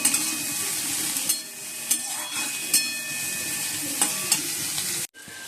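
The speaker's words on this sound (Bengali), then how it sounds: "এই যে বন্ধুরা পেঁয়াজি ভাজছি এখন" Onion fritters (piyaji) frying in hot oil, a steady close sizzle with occasional stirring clicks and scrapes, and a brief drop near the end.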